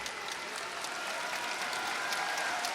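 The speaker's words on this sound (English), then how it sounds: "And Statlander getting a rousing round of applause here and cheers from the fans." Wrestling arena crowd applauding and cheering for a wrestler after a TBS Championship match, a steady, somewhat distant wash of claps and cheers with faint voices underneath.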